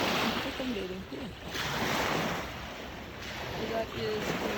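Surf washes onto the Lake Ontario shore at West Beach in Port Hope in soft, broad swells under steady wind rumble on the microphone, with a voice talking faintly in places.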